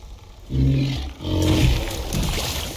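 A creature in the video game Icarus lets out a loud, low roar that swells twice over a couple of seconds, deep and rumbling, followed by a rougher burst, with no talking over it.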